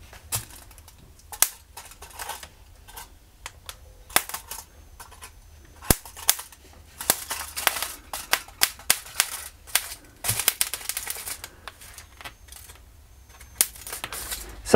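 A homemade high-voltage discharge tester, or diode zapper, fires sparks: sharp irregular snapping cracks, some in quick clusters and some alone, loud and close over a quiet background.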